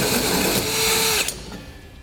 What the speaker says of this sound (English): Now I'll take a hole saw, the size indicated in the instructions, and begin to drill that out